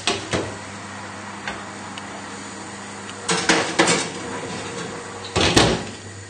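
Clanks and knocks as a pork roast goes into the oven: a few sharp metallic clatters from a pan and oven rack, then a brief cluster of bangs as the oven door shuts, close and fairly loud.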